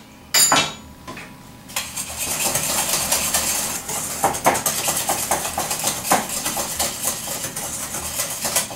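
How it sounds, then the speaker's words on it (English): Sugar whisked into a white chocolate mousse mixture in a bowl, a rapid run of metallic clinks and scraping taps after an initial clatter, steady and close with a faint hum behind. "we're going to add 1/2 cup of sugar, and we're going to whisk this in"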